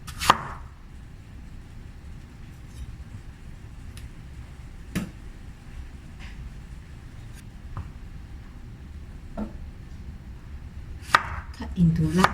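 A knife cuts a tomato into large chunks on a cutting board for a corn ABC soup, giving a few sparse, sharp knocks spread out over quiet background, close and separated by long pauses.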